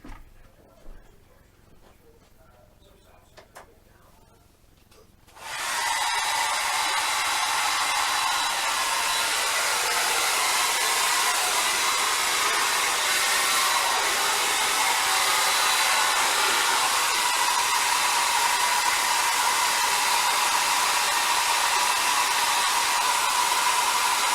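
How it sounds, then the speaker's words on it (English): A hair dryer switches on after a few seconds of quiet small handling noises. It then blows steadily and loudly at a hobby bench beside a Star Trek Klingon D7 plastic model kit. "I should probably hit it with the dryer so it doesn't keep sinking"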